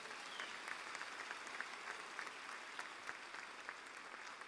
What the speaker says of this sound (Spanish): Ahora dale un fuerte aplauso al Señor.